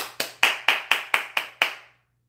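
Eight sharp hand claps ring out in a quick, even rhythm, each crisp and close with a short decay, then silence; a person clapping to imitate American football coach Jason Garrett's sideline clap.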